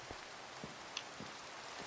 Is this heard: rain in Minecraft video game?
yes